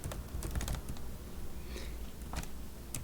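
Quiet, fast clicking of computer keyboard keys while code is entered in MATLAB, with irregular bursts of keystrokes and short pauses between them.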